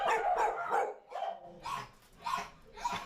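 Several dogs bark loudly at an animal rescue adoption center, a quick run of sharp barks followed by spaced yips and whimpering barks, close and echoing indoors, with no talking over them.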